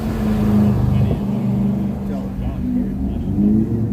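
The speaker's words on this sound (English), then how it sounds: "Running his car as loud as he can down that street." A car revs loudly as it drives past on a Phoenix street, its engine droning and rising and falling under people talking nearby.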